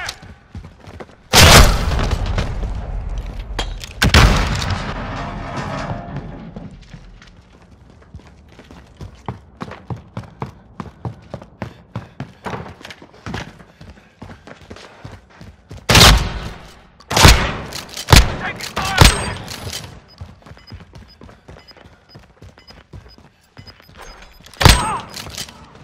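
Gunfire and explosions from Call of Duty Modern Warfare played on a PS4 Pro: heavy booms open the sequence, then rapid automatic bursts, scattered single shots and more loud blasts pile up over sustained battle noise.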